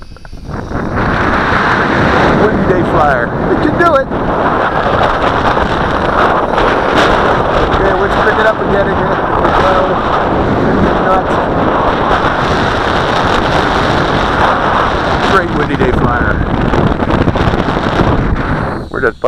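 Strong wind on a windy day buffets the microphone in a loud, continuous roaring rush with gusty bursts throughout, while a voice speaks faintly beneath it.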